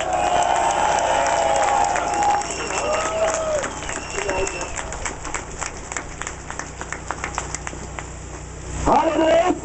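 A large crowd at a Pegida rally in Dresden applauds and cheers in a continuous, dense wash of clapping and shouts, with voices mixed in and a louder swell near the end.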